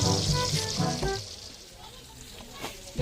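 Onion and garlic frying in hot oil for chop suey, giving a steady, fairly close sizzling hiss that eases off slightly toward the end, with no talk.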